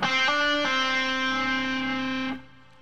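A single sustained distorted electric guitar note, played as a pull-off by plucking with the fretting hand, rings steadily for about two seconds with a slight shift early on, then stops.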